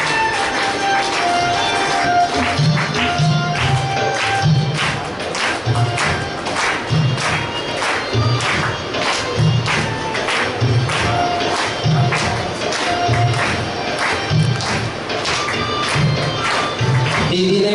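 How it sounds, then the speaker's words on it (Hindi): A large audience at a Brahma Kumaris Mother's Day gathering claps loudly and continuously, a thick crackle of hands with a rhythmic thumping beat running steadily underneath for the full length. "सभी तालियां बजाते रहें जोरदार।"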